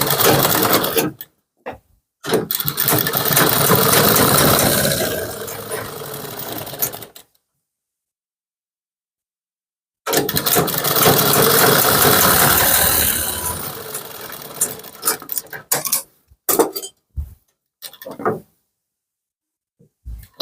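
A sewing machine stitches kurti fabric in two long, steady runs separated by a pause, then finishes with a few short bursts and stops. It is close and loud, with no talking.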